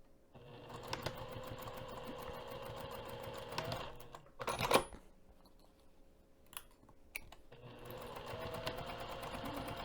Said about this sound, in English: So I'm going to take both of these over to the sewing machine and separately just stitch just the top edge